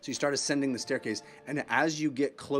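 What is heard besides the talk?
No everyday noises stand out.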